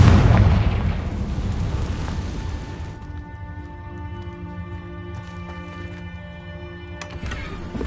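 A Confringo blasting spell explodes in Hogwarts Legacy with a loud opening burst, then decays into a long ringing, shimmering tail with scattered crackles and a brief flare near the end.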